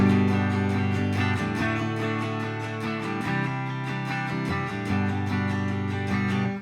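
A guitar strummed in a steady, even rhythm across all the strings, chords ringing continuously without pause.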